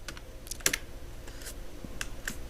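Quiet keystrokes on a computer keyboard, an irregular patter of light clicks with a few brief pauses, close and faint with no talk.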